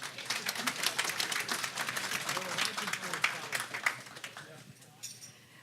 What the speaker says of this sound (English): Everybody give them a round of applause, please.